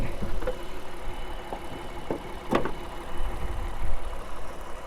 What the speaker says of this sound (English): this is the engine. Pretty amazing V6.